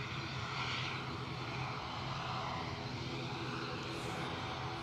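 An ATR turboprop airliner departing for Dublin at Edinburgh gives a steady, moderately distant propeller and engine drone that holds evenly throughout, with no talking.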